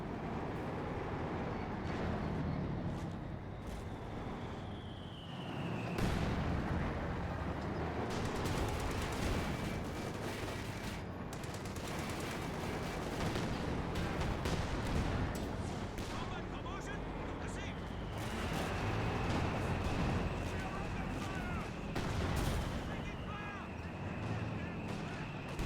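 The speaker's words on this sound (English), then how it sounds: "Nice barrage." An artillery barrage in a real-time strategy video game, with repeated booms and crackling gunfire spread across the whole stretch and dense battle noise under steady talk from a commentator.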